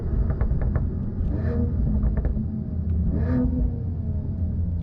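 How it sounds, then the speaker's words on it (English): A 2021 Mercedes-AMG E53 wagon rolls to a stop with a deep low exhaust rumble, punctuated by a few sharp crackling pops and bangs from the exhaust, heard close from inside the car. "you get some nice pops and bangs as the car is stopping as well."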